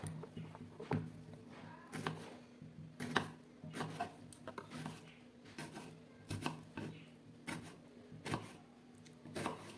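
A knife cuts tomatoes into thin slices on a board, a long run of quiet, steady taps repeating about once a second. A faint steady hum sits underneath.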